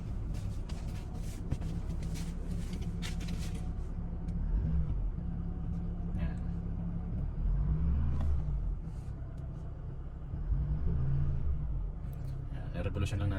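Toyota Hilux engine warming up with steady revving, a low rumble running throughout with several louder swells, heard up close while someone talks over it.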